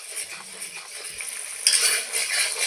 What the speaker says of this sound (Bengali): যেহেতু টমেটো কাঁচা দিয়েছি, তো ভালো করে কষিয়ে নেব